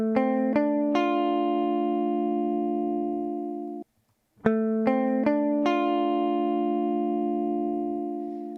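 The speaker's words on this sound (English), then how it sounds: "let me play that guitar dry" A dry, unprocessed guitar track played back: sustained strummed chords that ring and fade, a brief silent gap, then more chords, close and clear with no voices.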